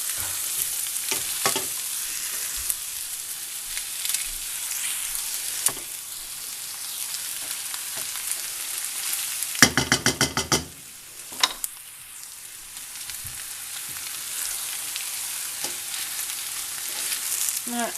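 Halved endives frying in a home pan, a steady close sizzle with sharp crackles and pops, broken midway by a short rapid clattering burst before the frying hiss resumes.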